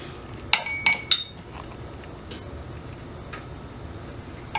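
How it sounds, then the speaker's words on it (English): A metal spoon clinks against a glass jar while pimentos are strained out, producing a few sharp, bright ticks in a loose cluster, then scattered fainter taps close by. "I'm going to strain it through the spoon."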